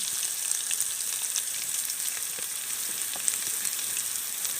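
Potato pieces sautéing in a pan while a kuche fish curry is being cooked, giving a steady, close, even frying sizzle that runs unbroken throughout with no talking.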